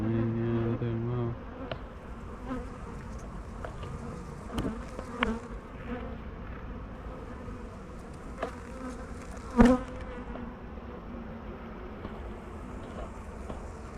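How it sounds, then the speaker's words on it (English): Healthy honeybees hum softly around a farm hive during an inspection, a low, continuous buzz with a few faint knocks and taps. "But the bees are all healthy"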